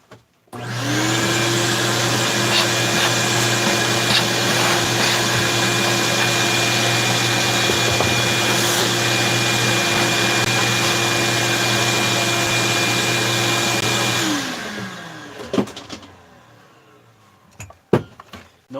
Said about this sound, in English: we're going to do a little vacuum.